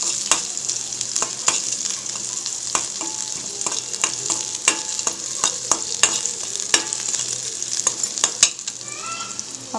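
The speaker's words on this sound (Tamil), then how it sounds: "அப்புறமா சின்ன வெங்காயம் போடலாம். அதையும் நல்லா வதக்கிக்கலாம்." Small onions sauté in a pan for baby soup, a steady bright sizzle broken by frequent scraping stirs of the spoon against the pan, close and without talk.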